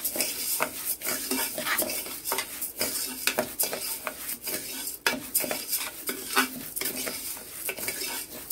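Split mung dal frying in ghee inside a pressure cooker, with a spoon steadily scraping and stirring against the metal pot over a constant close sizzle.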